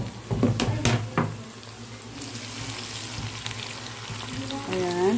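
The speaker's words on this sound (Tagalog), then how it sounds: "Igisa muna natin siya ng pang medyo maluto-luto siya konti." Small-cut tomato sautés in a pan for chicken kabsa, with a steady close sizzle and a few stirring knocks, and a voice briefly heard at the end.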